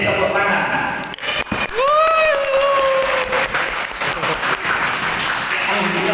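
Students in a classroom clap their hands together in a short burst, with voices and a rising vocal whoop over the clapping.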